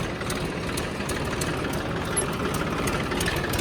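A Swaraj 855 tractor engine idling at 1000 RPM, a steady, loud, low diesel chugging that runs evenly throughout with no other sounds.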